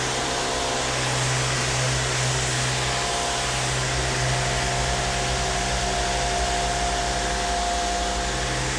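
A Sioux combo pressure washer and steam cleaner, model EN4.0-P1800-60Hz, runs in a continuous loud hum with a steady low motor tone and broad hissing rush that holds unchanged throughout, no voices.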